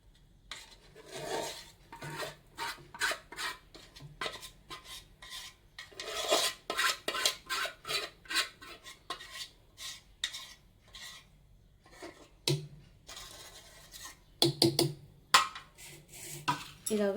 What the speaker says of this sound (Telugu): మిక్సీ జార్ రెడీగా పెట్టుకున్నాను కదా, దీనిలోకి ఇదంతా కూడా ట్రాన్స్ఫర్ చేసుకుంటున్నాను